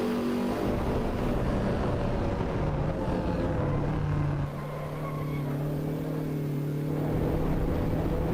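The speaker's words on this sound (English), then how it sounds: "Lee's just said the engine sounds definitely better than GT7" A race car engine in the video game Assetto Corsa Evo roars steadily, its pitch shifting as it revs up and eases off, loud and continuous throughout.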